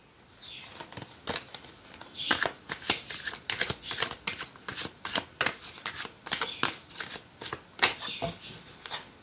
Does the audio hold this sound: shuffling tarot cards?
yes